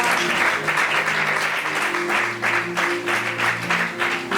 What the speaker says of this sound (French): On peut acclamer pour cela.